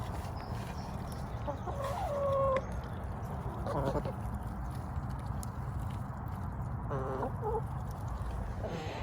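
Chickens and ducks forage in freshly turned garden soil, giving a few short clucks and calls spaced through a steady outdoor background of low rumble and faint rustling.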